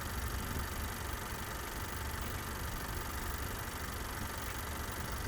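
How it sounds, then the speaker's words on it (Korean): A ninth-generation Honda Accord with a 2.4-litre engine idles with a steady, low, even hum, fairly quiet and unchanging throughout, ending with a brief click. "한 10초 정도 엔진 소리를 들어보시겠습니다."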